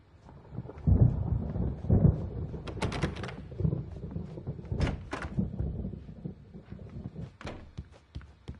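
Thunder rolls through a stormy night in the video game Alan Wake: low, rumbling peals swell and fade, broken by a few sharper cracks over a faint wash of rain.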